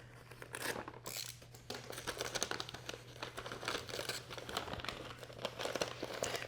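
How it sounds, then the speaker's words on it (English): VCI rust-inhibitor wrapping paper crinkles and crumples as it is pulled off a new Lie-Nielsen hand plane, giving close, irregular crackling rustles for several seconds over a low steady hum, with no speech. "They're still wrapping it in this paper that they've always used."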